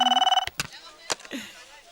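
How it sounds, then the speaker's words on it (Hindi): In a Hindi film scene, a telephone rings in quick repeated pulses, then breaks off with sharp clicks and thumps as it is answered. "फिर से फोन आ गया"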